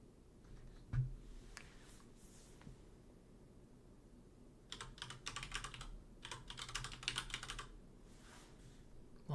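Typing on a computer keyboard during a live stream, faint and close, with a few isolated key taps followed by a rapid burst of continuous clicking, without speech.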